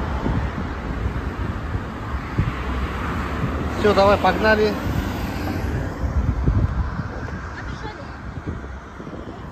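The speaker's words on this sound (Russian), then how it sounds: "Сейчас пропустим машины и пойдем на эту сторону." Cars pass along an evening street in Egypt while pedestrians wait to cross. There is a steady roadway rumble with wind buffeting the microphone, a vehicle swells past mid-clip, and people talk briefly.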